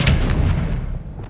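Expelliarmus spell cast in a Harry Potter video game, a single loud booming blast that decays quickly, with no talking.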